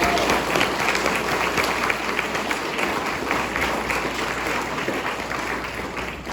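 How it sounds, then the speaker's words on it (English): Sustained applause from a sizable crowd at an HOA meeting, dense rapid clapping holding steady and gradually easing toward the end. "So please give them a round of applause."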